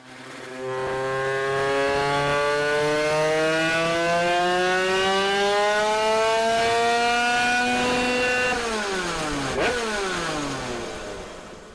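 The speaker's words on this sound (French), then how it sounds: "je mets le moteur au banc et puis on va voir ce que ça donne" A 100cc two-stroke engine on a dyno test bench revs steadily higher in one long sweep, a loud buzzing whine climbing in pitch before dropping off sharply at the end, with no talk.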